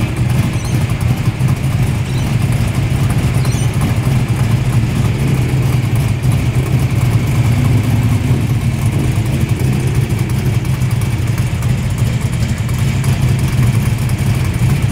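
A Ford Fairlane tuner car's engine rumbles loudly and continuously at idle, with a deep throbbing burble and slight rev swells, outdoors at a car meet.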